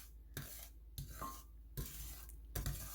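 Brown sugar is stirred into melting butter in a pan for candied pecans, with soft scraping strokes at a steady rhythm over a low sizzle, close and quiet.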